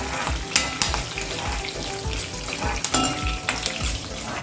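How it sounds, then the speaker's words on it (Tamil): Curry leaves roast in a pan for Kerala-style sambar, sizzling steadily while a utensil scrapes and stirs in repeated rhythmic strokes, close and moderately loud, with no talking. "கருவேப்பிலை ஆட் பண்ணிக்கலாம். இதெல்லாம் நம்ம சைடில் வறுத்துட்டே இருக்கணும்"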